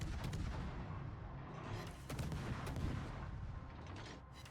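Naval gunfire aimed at the Nevsky in a warship video game, a dense rumbling barrage of cannon booms rolling on without pause. The shots land as broad, muffled blasts at moderate loudness, and no voices are heard.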